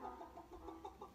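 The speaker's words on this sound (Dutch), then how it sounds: "ik hoor de kip" A chicken clucks softly and repeatedly in a steady run of about six short clucks, faint and distant, with no talking.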